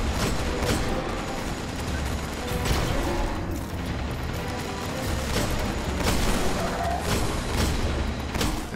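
Gunfire in the video game Destiny during a strike against Cabal enemies: repeated sharp shots and booms in irregular bursts over a dense, noisy battle backdrop.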